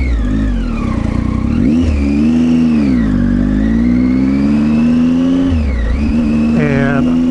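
A car turning around on a rural road, its engine droning loud and close as it revs and eases off through the manoeuvre, with a whining pitch sweep and no speech.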